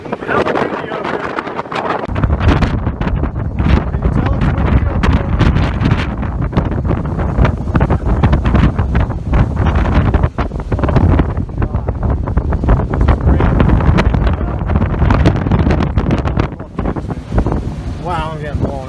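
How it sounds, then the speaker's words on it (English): Strong wind buffets the microphone on a mountain summit in New Hampshire's White Mountains during rain, a loud, constant roaring rumble that fills the whole stretch with no letup. "It's hella windy out here."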